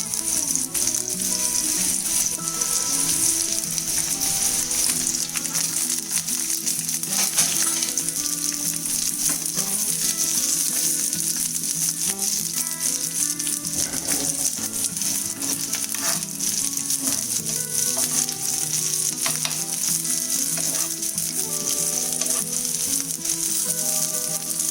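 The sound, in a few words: shallots, dried red chilli and curry leaves frying in coconut oil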